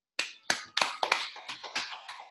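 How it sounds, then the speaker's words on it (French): A few people clapping in a sparse, uneven rhythm, about eight distinct claps over a couple of seconds, fairly close and quiet, with no crowd swell behind them. "Applaudissez quand même pour moi."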